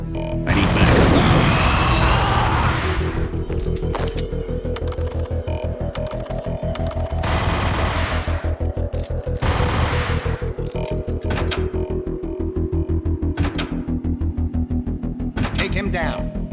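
Gunfire in the video game Max Payne: bursts of rapid automatic shots and single loud blasts over a droning background, repeated through the stretch with game voices speaking between volleys.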